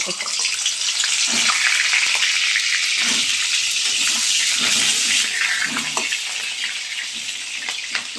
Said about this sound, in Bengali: এবারে আলুটাকে ভেজে নেবো।